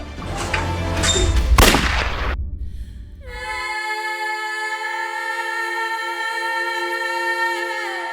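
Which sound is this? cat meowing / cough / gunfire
gunfire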